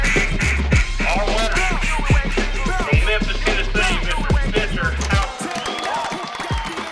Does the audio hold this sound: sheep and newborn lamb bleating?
no